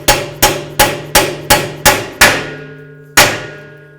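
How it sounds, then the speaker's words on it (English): Steel hammer blows driving a bearing into the rear axle of a 1994–2004 Chevy S-10: seven sharp, evenly spaced metallic strikes with ringing decay, then a pause and one final louder ringing hit as it bottoms out. "I can hear that it's going bonk, bonk, bonk, but as soon as it gets to the end, it's going to go ting at the end."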